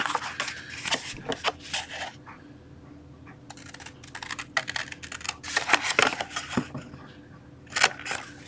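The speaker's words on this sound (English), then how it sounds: "Okay, scissors. Go ahead and cut all of those boxes." Irregular crisp snips and rustles, close and fairly quiet, come in short bursts with brief pauses, like scissors cutting through paper.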